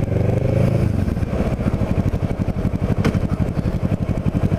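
A Kawasaki Ninja 650R motorcycle cruises through Wildwood streets, its engine producing a steady, loud rumble with a rapid pulsing throb that continues unbroken throughout.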